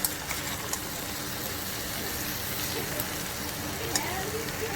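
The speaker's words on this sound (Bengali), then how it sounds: "মশলা কষানোটা হয়ে গেছে, এর মধ্যেই আমি সবজিগুলো ঢেলে দেবো।" Vegetables sizzle in hot fried spice paste while shukto is cooked: a steady, moderately loud crackling hiss that carries on throughout with small pops here and there.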